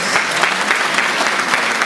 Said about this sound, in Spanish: Nuevamente el aplauso